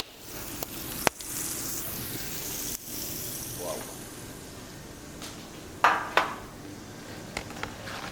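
Fatty side of a pork cut laid directly on the stone floor of a wood-fired oven gives a low, steady sizzle, with a few sharp clinks and knocks nearby and quiet voices in the background.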